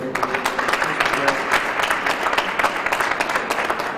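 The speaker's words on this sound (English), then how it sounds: "let's give a big round of applause to our congressman" An audience at a community college funding announcement gives a congressman a big round of applause, steady dense clapping over four seconds with some crowd murmur mixed in.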